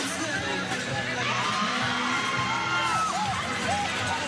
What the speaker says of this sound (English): please join me in one last round of applause to congratulate both of these teams